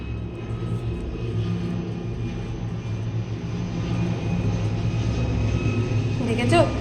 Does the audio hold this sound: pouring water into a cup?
no